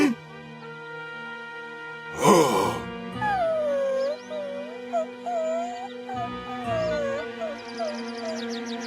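A puppy in a Dragon Ball cartoon whimpers and wails in long, wavering high-pitched cries. The cries rise and fall over a soundtrack, with a brief thump early on.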